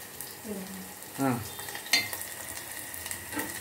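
Chopped onions frying in a pan with a pinch of salt, a steady close sizzle with a few louder scrapes of a spatula stirring; no talking.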